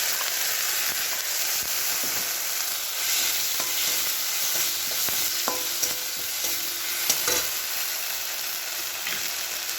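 Ginger-tomato paste cooking with onions already fried in a pan, a continuous close sizzle with intermittent spoon scrapes and clicks as it is stirred, no voices.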